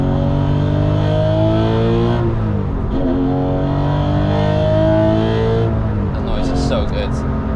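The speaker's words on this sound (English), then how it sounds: "tires rolling" A black Porsche 996 GT3 at speed on the Nürburgring, its engine droning with shifting pitch as it accelerates and eases off through corners, loud and close, with a steady rush of tire and road noise underneath.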